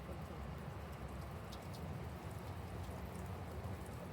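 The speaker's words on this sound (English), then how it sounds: "It's raining." Rain falls steadily on a rainy day, making a faint, even hiss with no clear breaks or other sounds over it.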